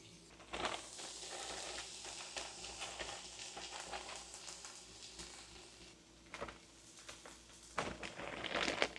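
Onion and carrots sizzle in a pan, a steady close frying hiss with occasional stirring scrapes and bursts that grow louder toward the end.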